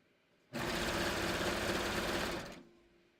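A 3-thread overlock serger runs steadily through a seam for about two seconds, a loud continuous motor whir that starts abruptly and winds down at the end, with no talking.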